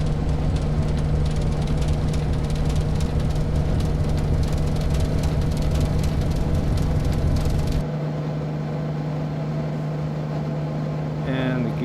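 Single-engine Cessna 210 in the X-Plane flight simulator, a steady loud droning engine hum with a strong low tone that cuts to a quieter level near the end.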